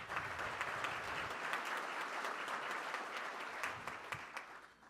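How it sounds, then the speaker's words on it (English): Audience applause for volunteers at a Rotary Club of Tulsa meeting, a steady roomful of clapping hands lasting throughout and tapering slightly at the end, fairly soft and without voices. "Let's give them a round of applause."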